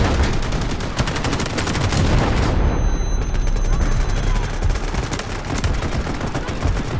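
Gunfire in the mobile shooter Delta Force Mobile, dense rapid automatic bursts that break off midway into rumbling blasts and battle noise, loud and continuous.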